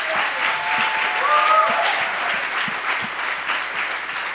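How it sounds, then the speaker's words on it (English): Event audience giving volunteers a big round of applause, a loud, steady wash of many hands clapping that holds throughout, with a faint voice briefly audible underneath. "let's give all the volunteers a huge round of applause."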